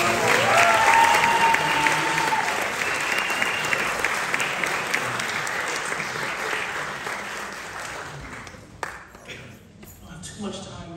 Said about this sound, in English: Please, one more round of applause for the filmmakers.